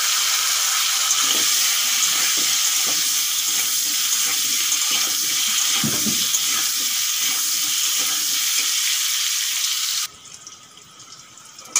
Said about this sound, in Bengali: তেল গরম হয়ে গেছে, এখন দিয়ে দেব আলু।